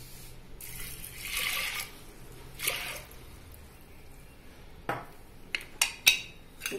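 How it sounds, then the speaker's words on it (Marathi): Water poured from a glass into a pressure cooker holding whole masoor lentils; a brief splashing pour near the start, then scattered close drips and clinks of the vessel toward the end. "आणि आता एक ग्लासभर पाणी घालते।"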